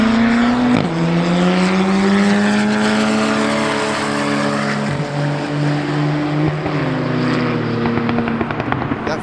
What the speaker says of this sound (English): That Volkswagen is surprisingly quick.